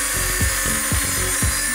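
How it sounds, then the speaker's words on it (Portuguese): A power tool cuts through a 20/30 metal tube, giving a steady harsh whine with a low thud about every half second, close and loud. "Eu vou cortar aquele metalão 20/30"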